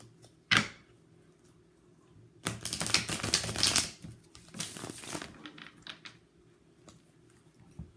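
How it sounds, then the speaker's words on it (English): Tarot cards shuffled by hand in a few bursts: one sharp riffle near the start, then a longer dense flurry of papery slapping and crinkling that trails off into quieter intermittent card rustles. "Shuffle one more time."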